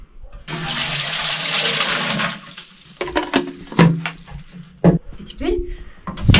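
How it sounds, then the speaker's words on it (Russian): Exactly two litres of water poured into a steam autoclave canner lined with foil for home-canning jars: a steady splashing pour for a couple of seconds, then clunks and handling noises with a voice talking over it. "Заливаем туда ровно 2 литра воды"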